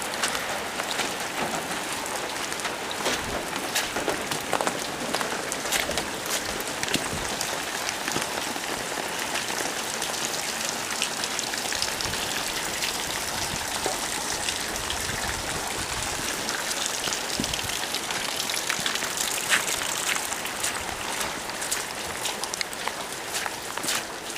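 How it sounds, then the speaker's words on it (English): Steady rain falls on hard surfaces near a flooding garage in the early morning, a dense, even hiss of drops and patter that continues unbroken throughout. "Okay, so the rain has stopped."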